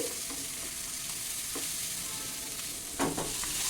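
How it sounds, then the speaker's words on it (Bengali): A spoon scrapes through a small river-fish chorchori frying in a pan with cumin powder just added, close steady sizzling under soft stirring strokes, with a couple of sharper scrapes near the end. "জিরের গুঁড়ো দিয়ে এটাকে আমি ভালো করে এবার নেড়ে চেড়ে দিচ্ছি"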